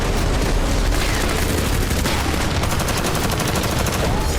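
Hezbollah rocket attacks on Israel set off dense, continuous booms and crackling blasts that come in rapid bursts, loud and harsh, with faint voices mixed in.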